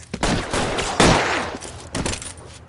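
Bursts of gunfire from a police shootout outside Mallory's Cafe in LA Noire, a rapid volley of close, loud shots followed by a second cluster a moment later, with no talking over them.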